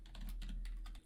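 Quick, light keystrokes on a computer keyboard, five or six close clicks in a steady rhythm over a low hum, with no one speaking.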